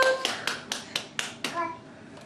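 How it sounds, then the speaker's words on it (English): A toddler claps small hands six times in a quick, slightly uneven rhythm, close by, with faint voices around. "Clap for us."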